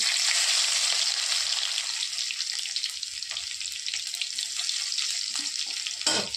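Cumin seeds and garlic hit hot oil in a pan, making a continuous bright sizzle and crackle at close range, with a few faint knocks underneath.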